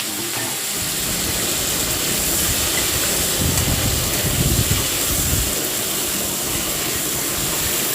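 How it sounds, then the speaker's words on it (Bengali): Large pieces of potato coated with salt and turmeric fry in hot oil in a covered wok, giving a continuous, loud hissing sizzle with no speech over it. "আলুগুলো দিকে ভাজা হতে থাক চাপা দিয়ে দিই বেশ লাল লাল করে ভেজে নেবো আলুগুলো"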